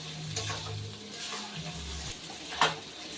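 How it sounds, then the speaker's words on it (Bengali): Fish fat frying in its own melted oil over high heat, a soft steady sizzle with occasional spatula scrapes and a brief sharp clatter near the end, with no speech. "তেলগুলো গলে গলে আস্তে আস্তে তেলটা বেরোবে আর ওই তেলেই কিন্তু তেলটা ভাজা হয়ে যাবে"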